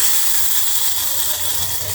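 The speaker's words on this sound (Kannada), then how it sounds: "ಚಟಪಟ ಅನ್ನತ್ತಾವ ಈಗ ಇದ್ರೊಳಗೆ ಒಗ್ಗರಣೆ ಹಾಕಿದ್ರು" A loud, steady hissing sizzle fills the clip as a tempering of spices crackles in hot oil for chutney, constant throughout with no voices.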